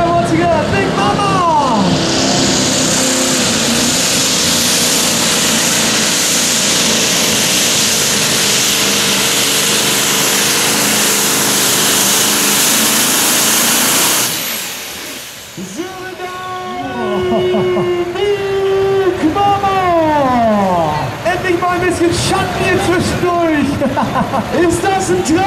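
A modified tractor roars under heavy load during a 4.5-tonne tractor-pulling run, a loud sustained engine drone that cuts off and gives way to rising and falling revs, with an announcer talking over the noise.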